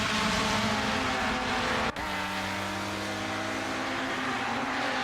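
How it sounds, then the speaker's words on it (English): A BMW touring race car in the Assetto Corsa sim at Barbagallo drones past loudly at high revs, a steady engine roar with a brief dip near two seconds before the note settles slightly lower and continues. "Now on the outside goes the BMW of Lito"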